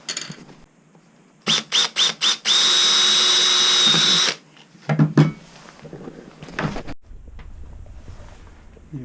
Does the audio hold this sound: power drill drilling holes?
yes